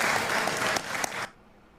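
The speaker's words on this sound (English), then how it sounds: "Oh, I didn't know they were allowed to applaud." An audience applauds loudly with dense continuous clapping that cuts off abruptly near the end, leaving quiet room tone.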